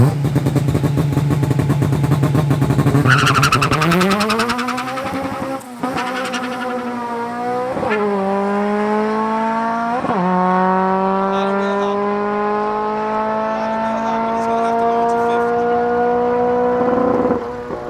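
A drag race car makes a pass down the track, its engine revving loud and close, climbing through several quick gear shifts and rising in pitch, heard alone without talk; the launch had a bad 60-foot time and wheel hop.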